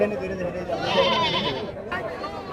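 A goat's bleat rises close by while someone talks over it, with livestock murmur in the background at a goat market.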